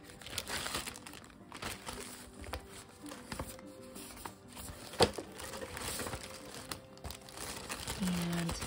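Vintage papers with aged, crinkly sheets are handled close up, giving soft rustles and crinkles with a few sharper crackles, continuing under and between quiet speech.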